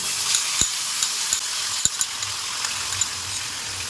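Mustard seeds and tamarind pulp frying in hot ghee in a pan, a steady hissing sizzle with scattered popping crackles and a couple of sharp utensil taps, close and continuous.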